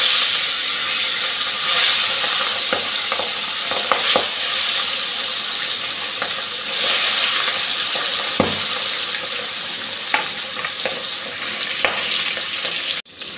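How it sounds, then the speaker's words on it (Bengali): Bual fish fries in hot oil in a pan with a loud, continuous close sizzle and hiss. Occasional pops and spatters break through, and near the end it cuts off with a clatter. "গরম হয়ে গেছে, ভাজতে বসিয়ে দিচ্ছি মাছটা"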